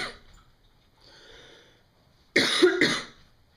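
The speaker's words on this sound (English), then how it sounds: "I've been coughing a lot more" A short, harsh cough burst, close by, after quiet breathing and faint throat sounds.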